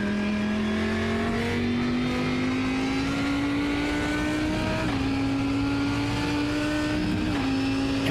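Race car engines drone steadily at high pitch on the Brands Hatch circuit in a racing video game, rising as cars accelerate and pass one another, with a constant loud roar and brief dips at gear shifts.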